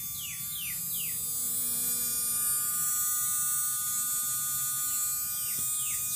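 Electric motor hums steadily, powered through a primary coil wrapped around a ground pipe in a replica of Ed Leedskalnin's workshop; a constant mains-like buzz holds throughout, with faint chirping sweeps in the background.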